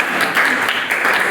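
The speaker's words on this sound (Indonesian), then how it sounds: "tepuk tangan buat kelompok 2 ya" A classroom gives a student group a brief burst of applause, dense steady clapping from many hands, close and fairly loud, with a voice faintly mixed in.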